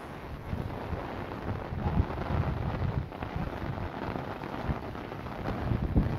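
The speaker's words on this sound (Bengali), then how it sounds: "প্রচুর বৃষ্টি" Heavy rain pours onto a Dhaka rooftop in a dense, continuous roar with gusty swells and some wind buffeting on the microphone. No one speaks.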